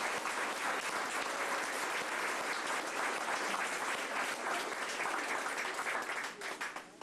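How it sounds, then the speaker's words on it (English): A crowd at a high school sports banquet applauds steadily, dense and sustained hand clapping filling the room at an even level before tapering slightly at the very end. "if you would give them a round of applause"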